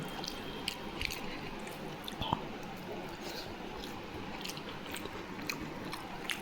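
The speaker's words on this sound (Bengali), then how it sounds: "মাছের তেল দিয়ে খাচ্ছি, বেশ সুন্দর হয়েছে, খেতে বেশ ভালোই লাগছে।" Rohu fish cooked with fish oil being eaten up close: soft, wet chewing and squishy bites in a steady rhythm, with occasional faint clicks.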